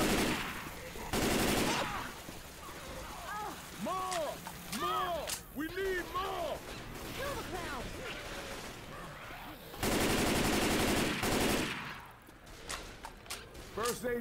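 Gunfire in the zombie shooter Left 4 Dead 2 Dark Carnival: loud bursts of shots at the start and again near the end, with game voices and shouting between them.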